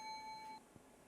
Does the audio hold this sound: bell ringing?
yes